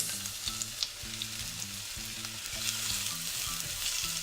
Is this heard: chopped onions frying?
yes